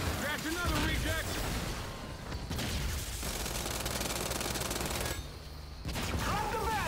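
Rapid gunfire from a weapon in the Gears 5 Horde mode: dense bursts of automatic shots and impacts that continue almost nonstop, with brief lulls and speech mixed in.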